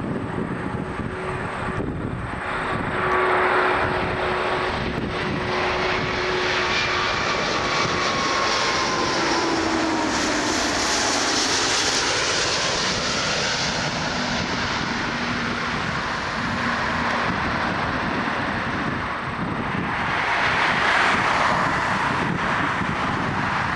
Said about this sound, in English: Hainan Airlines A340-600.